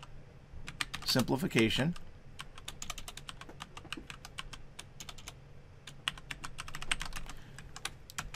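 Steady typing on a computer keyboard, many crisp, close clicks in irregular runs and short bursts, with a person speaking briefly near the start.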